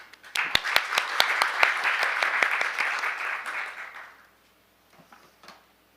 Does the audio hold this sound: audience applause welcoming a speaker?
yes